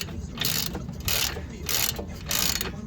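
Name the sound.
socket wrench loosening Nissan Qashqai anti roll bar nut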